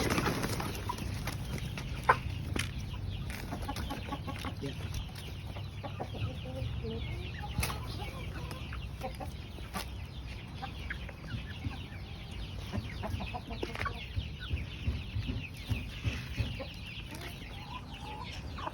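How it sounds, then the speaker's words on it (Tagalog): Rhode Island Red chickens, two to three and a half months old, clucking at feeding time in a backyard flock, with a soft steady murmur of clucks and a few sharper sounds throughout, faint overall. "so magpapakain muna tayo ng ating naalagang Rhode Island Reds"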